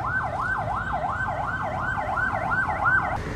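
An ambulance siren on a clean street in Makati, Manila, wails in a rapid rising-and-falling sweep that repeats steadily over low traffic rumble, moderately distant but clearly audible.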